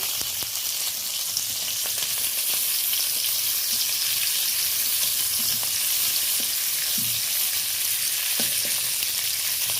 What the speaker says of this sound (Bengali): এইভাবে সব টমেটোগুলোকে একবার নাড়াচাড়া করে নেব